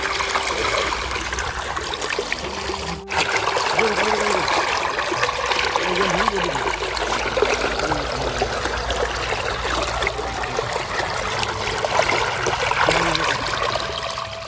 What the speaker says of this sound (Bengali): তো এই দেখো জল যাচ্ছে কি সুন্দর করে